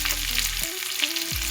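Shredded cabbage goes into a pan of reddened, frying urad dal, giving a close, steady sizzle with brief stirring scrapes and no voices.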